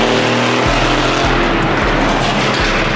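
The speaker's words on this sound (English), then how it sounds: "Y'all know I have a loud ass Burble Tune on my CLS 550." Loud Mercedes CLS 550 twin turbo AMG with a burble tune exhaust, a close, dense, rumbling engine roar with rhythmic low pulses, continuous and harsh, no voices over it.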